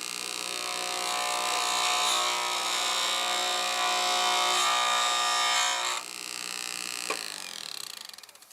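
A roughing gouge cuts a plastic pen blank spinning on a wood lathe, giving a continuous loud scraping whine with a shift partway through, then the cut stops and the lathe spins down at the end.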